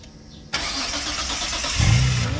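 A Nissan Cefiro engine cranks with the key and catches, then settles into a steady, loud idle with a slight rise in revs near the end.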